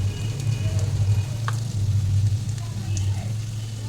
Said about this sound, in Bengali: ধনের গুঁড়ো, জিরের গুঁড়ো, চিনি আর সামান্য জল দিয়ে মশলাটা ভালো করে কষিয়ে নেব।